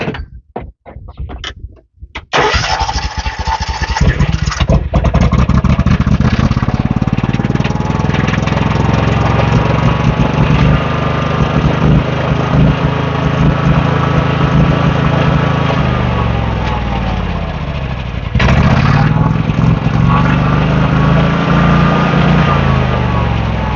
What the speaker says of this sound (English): I just started it again, and a bunch of crud just blew out the back.